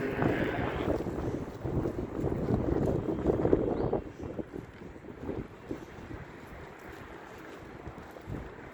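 Wind buffets and rumbles across the microphone, loud at first then easing into a lower, gusty roar, with faint water and outdoor noise beneath.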